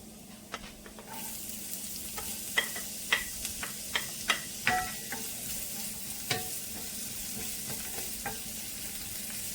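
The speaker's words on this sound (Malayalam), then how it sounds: "ഞാൻ സവാള ഇട്ട് കൊടുക്കുകയാണ്." Onion going into hot oil with browned garlic in a pan for a green bean stir-fry, a low steady sizzle broken by a series of sharp spatula clicks and stirring taps, close up with no talking.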